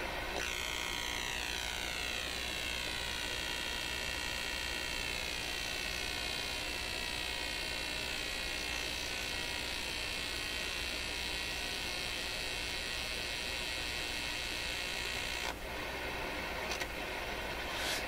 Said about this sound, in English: the sudden release and the sudden start in the sound you hear in this radio is the automatic